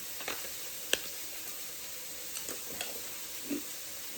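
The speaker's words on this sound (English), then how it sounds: "Beef is cooking." Ground beef sizzles faintly and steadily in a pan while cooking for a crunchwrap taco casserole, with a few soft pops and clicks and no talk.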